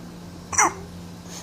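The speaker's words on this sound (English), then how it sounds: "You have hiccups, baby?" A baby's hiccup comes once as a short, sharp vocal burst, close and fairly loud, with a softer catch near the end over a quiet room hum.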